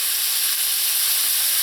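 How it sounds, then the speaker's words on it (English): Garlic pork cooking in a pan on low heat, letting off a steady, close, bright sizzle and hiss with no breaks and no talking. "going to be cooking this pork on very low"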